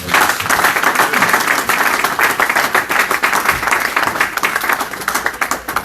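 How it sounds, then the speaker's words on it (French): Church congregation applauding together, a loud and sustained burst of many hands clapping with rhythmic peaks, close and filling the room. "On acclame pour la parole."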